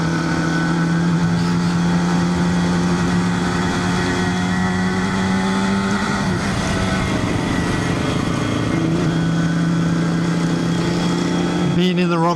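A small motorcycle engine revving and droning up a hill along a back road, loud and steady with pitch shifts as the revs change, and voices talking over it at times.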